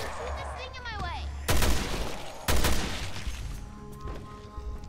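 Two loud, close gunshot blasts about a second apart in Resident Evil Revelations 2, each with a rough decaying tail, following a warbling game sound effect.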